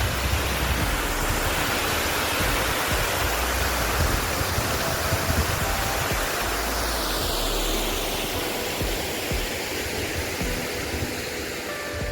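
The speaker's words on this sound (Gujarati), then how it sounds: "પાણી એટલું એટલું આવે છે" Water pours over a full village dam swollen by monsoon rain on the river, a loud, steady broadband rush that holds constant and close throughout with no voices.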